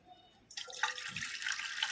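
Water gushes from a kitchen tap as tamarind is rinsed for sambar. It begins with a sudden burst of flow, followed by a steady close splashing with a few drips.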